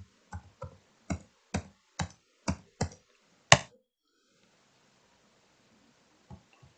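Keystrokes on a computer keyboard entering a website address: about eight distinct, fairly close clicks at an even pace, ending in one sharper tap, then near silence.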